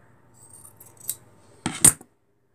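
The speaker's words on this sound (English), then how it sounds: "So I'm going to cut this one right here in half" Scissors snip through fabric for 18-inch doll shoes, a faint rustle followed by two or three sharp, close cuts in quick succession.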